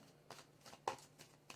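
Tarot cards shuffled by hand, quiet soft riffling in five or six quick separate bursts, close and faint, with no talking.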